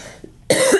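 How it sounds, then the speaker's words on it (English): A single sharp cough bursts out close to the microphone after a brief quiet moment. "And I'm going to cough."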